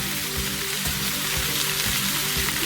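Tomatoes hit hot oil in a pan for spicy chili chutney, giving a loud, even sizzle and crackle throughout, close up and alone.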